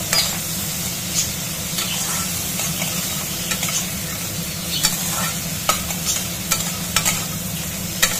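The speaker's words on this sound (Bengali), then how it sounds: "আমার এই দাঁড়াগুলো ভাজা হয়ে গেল।" Crab legs frying in hot oil in a pan while being stirred, a steady close sizzle with occasional scraping clicks of the spoon, no talking.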